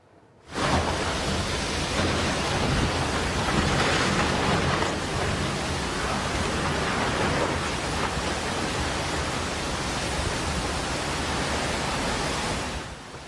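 Heavy rain and strong wind batter Sa'dan Utara in Tana Toraja, South Sulawesi, where the storm is toppling wooden rice barns, in a dense, unbroken roar that starts abruptly and holds steady throughout.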